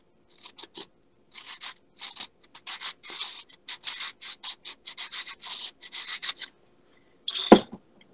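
A coarse flat file rasps across model rock material in short, close strokes, a series of quick scraping bursts with brief pauses between them and a louder final stroke.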